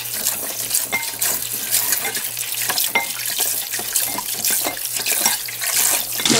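Pork neck bones being washed under a running kitchen tap, a steady close splashing and hiss of water with intermittent bursts as the meat is rinsed, no talking.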